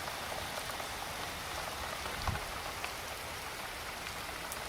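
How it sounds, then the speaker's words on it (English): Steady rain falls alone, a constant broadband patter of drops on a surface with a few slightly louder splashes and no voices. "Rain, rain, go away. Come back another day."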